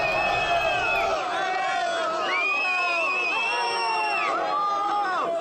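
São Paulo supporters fill Morumbis stadium before the Libertad match, a continuous crowd roar of cheering, whoops and babble with rising voices swelling around the stands.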